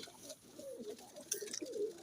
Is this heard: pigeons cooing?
yes